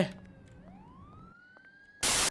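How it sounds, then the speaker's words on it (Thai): Police car siren from the Roblox game Midnight Cleaners, a rising electronic wail that climbs and holds steady at moderate loudness, cut off by a sudden loud burst of static near the end. "อุ้ยเสียงรถตำรวจ"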